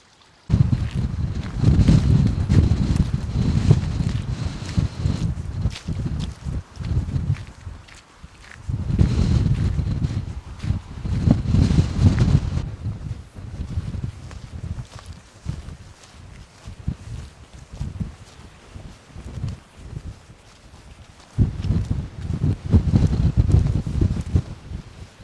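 Gusts of strong wind rumble and buffet outdoors in the Lost Valley, Glencoe, Scotland, surging and fading in waves with quieter lulls between them.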